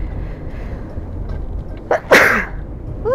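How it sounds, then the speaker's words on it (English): A single person's sneeze, a short sharp intake followed by a loud burst, standing out near and alone against low background hum. "Oh, I have to sneeze."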